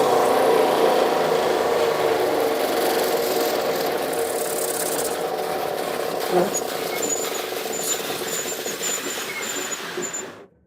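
A homemade giant edge sander runs steadily with a loud, continuous motor hum and belt whine, a brief knock midway, then winds down and cuts off at the end.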